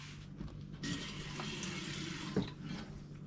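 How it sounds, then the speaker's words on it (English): Water runs into a crock pot for a spaghetti ragu with a Mexican twist, a steady close pour with a brief clunk near the end, no talk over it. "Put a little bit of water in here."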